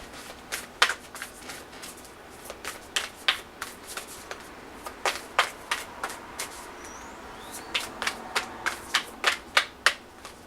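Tarot cards are shuffled by hand in a run of crisp riffles and snaps, close and fairly quiet, with no speech over them.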